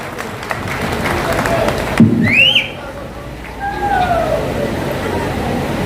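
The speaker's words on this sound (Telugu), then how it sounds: "అందరూ చప్పట్లు కొడుతూ" Audience at a pastors' meeting clapping, a steady patter of applause blended with crowd murmur and voices, broken by a brief louder thump and a short tonal squeal.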